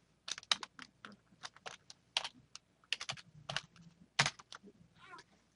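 Keys clack on a computer keyboard in an office setting, a close, quiet burst of irregular keystrokes with short pauses, no talk over them.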